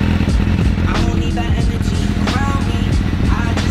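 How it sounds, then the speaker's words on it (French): A motorcycle engine idles to cool down after riding, a steady low rumble running throughout with some nearby voices and background noise over it. "Je la laisse tourner un peu pour que ça puisse refroidir le moteur."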